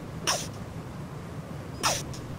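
Two quick, sharp sneezes, about a second and a half apart, are heard close to the microphone over a low, steady background hum.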